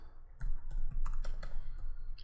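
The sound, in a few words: typing on a computer keyboard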